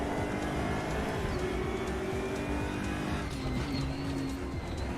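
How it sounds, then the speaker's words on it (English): A RaceRoom video game race car engine whines and revs steadily, its pitch rising and shifting as it accelerates, loud and continuous with no voices. "Car sounds great."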